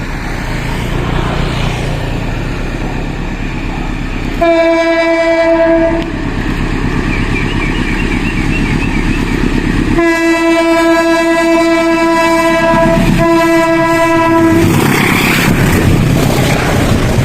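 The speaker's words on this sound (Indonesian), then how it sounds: "kita abadikan dulu KA Tawang Alun yang akan melintas di Viaduk Ledok Tempuro" KA Tawang Alun passenger train crossing the Ledok Tempuro viaduct, sounding two long, loud horn blasts over the steady rumble of the passing cars; no voices.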